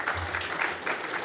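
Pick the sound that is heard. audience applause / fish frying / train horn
audience applause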